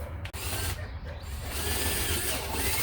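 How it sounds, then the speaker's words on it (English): A power drill or driver runs steadily up close, whirring as it screws bolts into a knockoff rear diffuser on a SAAB, after a brief clatter at the start. "I'm going to screw these 4 bottom holes in and work my way to the ends"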